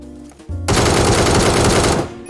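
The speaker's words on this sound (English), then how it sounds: "finally PUBG released new gun, Ace." The new ACE gun in PUBG Mobile fires a loud, sustained automatic burst lasting about a second and a half, set off abruptly after a quieter moment.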